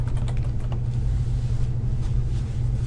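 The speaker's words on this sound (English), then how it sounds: "In the caption box, type student ID and press enter." Typing on a computer keyboard, a quick cluster of close key clicks at the start followed by a few scattered taps over a constant low rumble.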